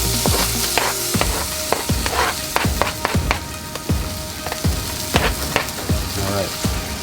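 Chicken frying in a pan gives a loud, continuous sizzle up close, broken by sharp clinks and scrapes of stirring utensils against the pan, with no talking.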